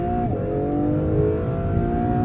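An Acura NSX Type S is driven hard through corners, its engine droning steadily with a faint high tire squeal over it, heard from inside the car without talk.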